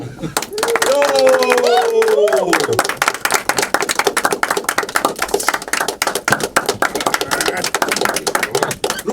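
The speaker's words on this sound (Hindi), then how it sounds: "तालियां" Rapid clapping from a small group at a web series trailer launch, steady and close, with voices and a brief cheer at the start.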